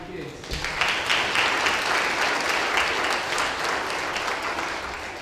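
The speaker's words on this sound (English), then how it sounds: "Let's hear another round of applause for all these kids." Congregation applauding children during a Sunday morning church service, a loud, sustained wash of clapping that starts abruptly and holds steady, with voices mixed in.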